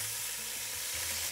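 Chicken pieces browning in a pot for red chicken tamales, with a steady close sizzle and frying crackle throughout and no talk.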